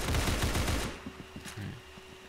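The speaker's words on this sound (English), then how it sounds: "we got a nice shotgun. The DBS. one hell of a shotgun." Rapid blasts from the DBS shotgun in Roblox Arsenal ring out loud and close at the start, a dense burst of shots that cuts off after about a second, followed by a few scattered fainter pops.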